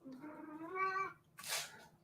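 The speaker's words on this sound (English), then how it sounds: "That was a cat." A house cat lets out a single drawn-out meow, rising then falling, close to the microphone and fairly quiet, followed by a brief breathy huff or sneeze-like puff.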